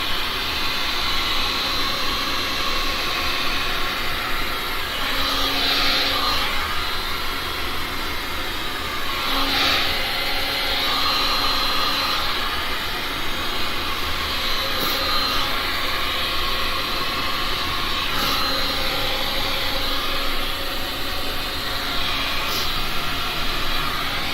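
A heat gun blows steadily over freshly poured resin, a loud continuous broadband hiss lasting throughout with slight swells in airflow and no speech.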